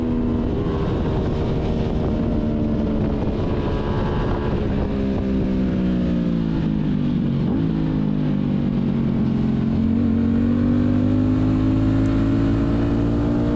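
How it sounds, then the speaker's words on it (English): An Aprilia RS660 motorcycle engine at full song on a track day, a loud steady drone whose pitch climbs, dips near the middle and rises again, with wind rushing over the onboard microphone throughout. "sometimes the RS660 sounds kind of underwhelming on these videos"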